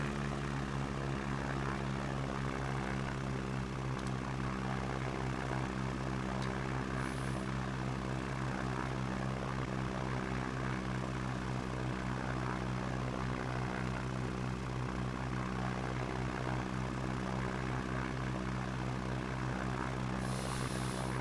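Light Cub aircraft in flight, its propeller engine droning steadily and loudly throughout with a constant harmonic hum, close and continuous with no talk over it.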